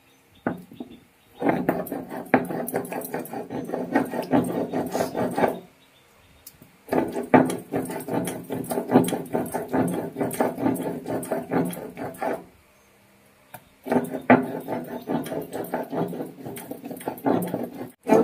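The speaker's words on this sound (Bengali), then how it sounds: "আরেকবার বেটে নেবো, যাতে এর মধ্যে কোনো আঁশ না থাকে" Raw green banana peel is ground on a stone slab, making repeated rough scraping and rubbing strokes in three long close-up bouts separated by brief pauses.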